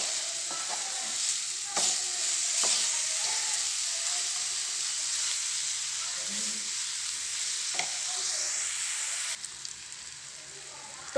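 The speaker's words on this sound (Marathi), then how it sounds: "आणि हे सगळं मिश्रण टमाटर मऊसूत होईपर्यंत शिजवून घेऊया" Tomato masala mixture cooking in oil in a pan until the tomatoes soften, a soft continuous sizzle with occasional clinks and scrapes of a spoon, fairly quiet and steady with no talking.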